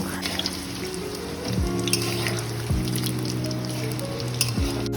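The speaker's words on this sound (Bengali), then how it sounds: "কড়াইয়ের মধ্যে দিয়ে দিলাম সর্ষের তেল তারপর আলুগুলিকে প্রথমে ভেজে নেব" Potatoes fry in mustard oil in a wok with a steady, close sizzle, broken by a few scraping stirs, over a low background hum.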